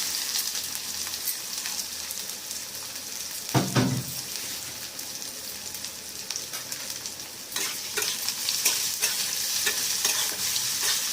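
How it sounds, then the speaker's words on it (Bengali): Chopped onion frying in oil with cumin and asafoetida for khichdi, a continuous soft sizzle with a sharp burst of spattering as something is added, then intermittent stirring scrapes. "ভালো করে একটু ভেজে নেবো পেঁয়াজটা।"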